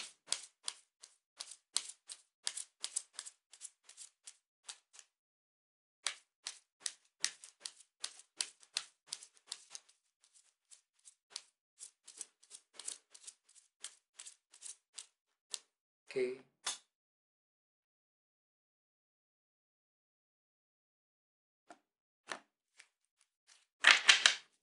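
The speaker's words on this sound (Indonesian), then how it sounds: "kartunya dikocok dulu sebelum kita mulai" Tarot cards being shuffled by hand before a reading, heard as fast runs of crisp flicks and snaps in bursts, close and fairly quiet, with gaps of near silence and a short murmur of voice midway.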